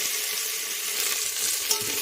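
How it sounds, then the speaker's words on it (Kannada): Masala frying in hot oil for veg pulao, a loud, continuous bright sizzle close by, steady throughout with a small pop near the end and no talk. "ಎಣ್ಣೆ ಸ್ವಲ್ಪ ಕಾದ ನಂತರ ಮಸಾಲೆ ಹಾಕ್ಕೊಂಡು ಸ್ವಲ್ಪ ಫ್ರೈ ಮಾಡೋಣ"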